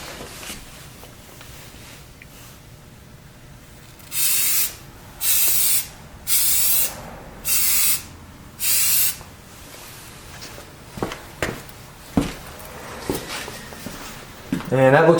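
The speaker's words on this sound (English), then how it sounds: "And I'll spray paint it from this angle." A spray paint can sprays a holster in five short, even bursts of hissing, close and clear, followed by scattered handling knocks and clicks; someone talks at times between the actions.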